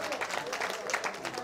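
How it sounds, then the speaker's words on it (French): Applause from a crowd at a French presidential campaign opening rally in Champigny, a brief burst of dense clapping with a voice over it. "Applaudissez pour Ibeka."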